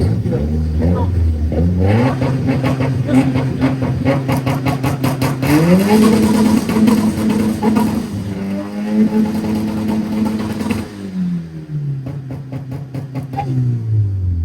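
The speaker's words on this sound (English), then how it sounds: "Rev it up for us." A loud Volkswagen Jetta 2 engine revs hard in repeated climbing bursts, holding high and dropping back to idle, close to the microphone with voices talking over it.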